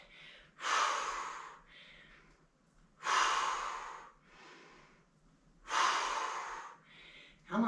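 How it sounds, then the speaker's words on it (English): Heavy breathing during a dumbbell shoulder workout: three loud, close exhalations spaced a few seconds apart, each followed by a softer inhale, with no talking. "Breath out, in."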